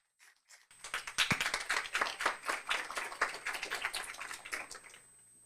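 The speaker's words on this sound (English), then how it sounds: "Please give them the big applause." Applause from a small audience at an education-division panel event, crisp distinct claps starting after a brief pause, building into a steady patter and then stopping abruptly.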